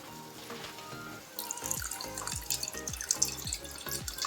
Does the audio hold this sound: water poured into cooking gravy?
yes